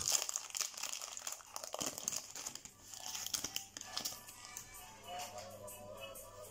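Crinkly plastic wrapper of a basketball trading card pack, a 2020-21 Court Kings or Prizm cello pack, being pulled and torn open up close, giving continuous rustling and crackling with sharp tearing bursts.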